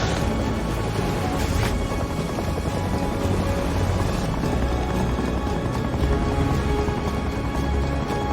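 A helicopter arriving at a ship in a film gives a continuous loud, dense rotor roar with rumbling low end, steady for several seconds with a couple of brief sharper bursts.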